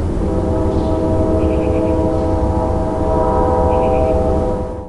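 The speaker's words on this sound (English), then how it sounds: "Locomotive." A steady low rumble with tonal drone, like a locomotive idling nearby, with brief faint higher beeping tones above it; no talking.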